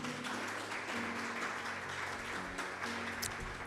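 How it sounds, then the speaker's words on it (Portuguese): A church congregation standing to applaud Jesus during a worship service, producing steady, dense clapping that fills the room at moderate volume, with a faint sustained hum of music or voices underneath. "Aplauda o Senhor Jesus bem forte, se coloca de pé."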